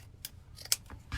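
Quiet, crisp snips of scissors cutting off a zip tie on a DIY pumpkin wreath, several short clicks spaced unevenly, close and isolated.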